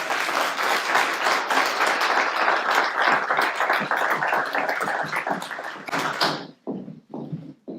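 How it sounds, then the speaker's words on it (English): An audience at a library's annual meeting breaks into dense, steady applause for about six seconds, then the clapping thins out into a few scattered claps before it stops. "I would like us to all give a big round of applause"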